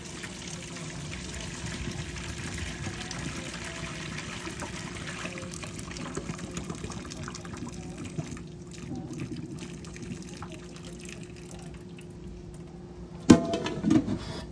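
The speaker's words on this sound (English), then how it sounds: "we're gonna go ahead and pour this water off" Water is poured off a cooking pot of Jamaican stew peas, pouring and trickling steadily at low volume, ending with a sharp metallic clank of the pot near the end.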